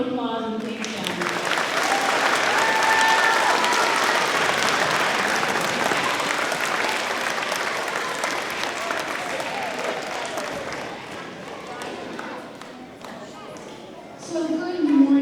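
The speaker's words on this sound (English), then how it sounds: "Let's give them one more round of applause and thank them." An audience at a school celebration applauding, a dense, sustained clapping that swells, holds steady and gradually thins out, with a voice starting to speak near the end.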